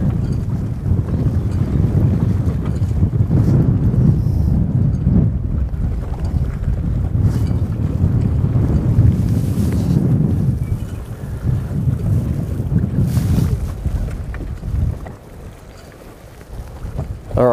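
Strong wind buffets the microphone on an open fishing pontoon on the Hawkesbury, a steady low roar with gusts that runs nearly unbroken throughout and briefly eases near the end.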